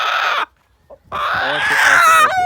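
Farm rooster squawking loudly in panic as it is caught by hand, two harsh outbursts split by a brief pause, the second longer and more strained.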